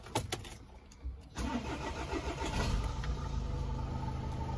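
A Volkswagen Golf with a DSG gearbox cranks briefly and fires, then settles into a steady, close idle after a quiet pause and a few faint clicks.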